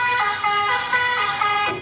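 A truck-style horn honks in a music track, a bright sustained multi-tone blare with short repeated pulses about every half second over a low beat.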